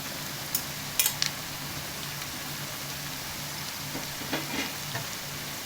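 Capsicum sizzles in an oiled pan for paneer fried rice, a steady close hiss with a few faint scraping stirs over it and no voices.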